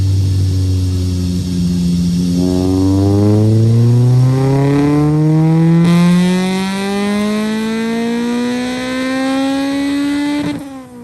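A 1997 Honda Civic's high-revving four-cylinder engine climbs steadily through the revs in one long pull, loud and close, then drops off sharply near the end.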